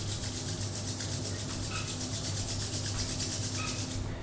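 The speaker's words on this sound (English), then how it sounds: "now join your hands, rub them," Two hands rubbed briskly together during a yoga class, a continuous close, dry swishing friction that runs unbroken throughout.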